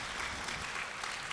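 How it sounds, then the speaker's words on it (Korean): Steady applause from a talk-show audience at a youth lecture event, a soft, even wash of clapping heard alone throughout. "박수 부탁드립니다"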